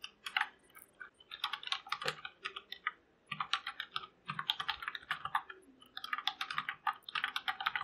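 Close computer keyboard typing in quick bursts of rapid clicks, separated by short pauses, with no voices.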